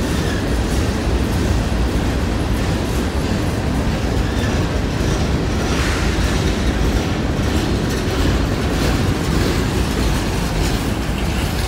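A CSX freight train rumbling steadily along the tracks, loud and continuous, with a constant roar and faint rhythmic clatter of wheels.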